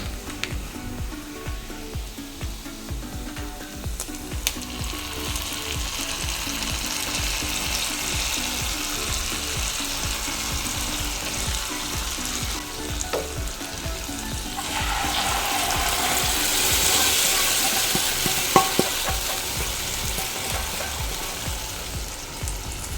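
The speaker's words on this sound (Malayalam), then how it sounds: "ഇനി ഈ വറവ് നമ്മൾ നമ്മുടെ ഇഞ്ചിമ്പുളിയിലേക്ക് ചേർത്ത് കൊടുക്കാം" Hot fried tempering poured into ginger-tamarind inji puli crackles with a dense, continuous sizzle, rising into a brighter hiss partway through, with faint clicks and stirring and no speech.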